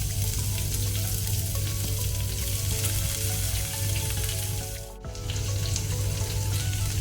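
Chopped onion sizzles steadily in hot oil in a pan, close and loud, added after urad dal for an Andhra-style bhindi pulusu. A brief dip in the hiss comes midway, and nobody speaks.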